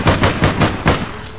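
Gunfire in the online shooter APB Reloaded: a rapid burst of about five loud, close shots in quick rhythmic succession with no voices over them.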